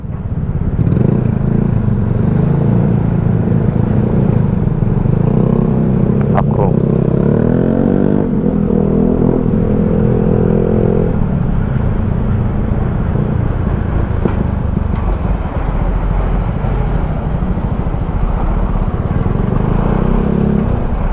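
Loud road traffic around large, long vehicles on a Batangas City road near the Balagtas Rotonda flyover, heard while riding a Yamaha Mio Sporty scooter, with constant close engine drone, wind rush and brief revving swells.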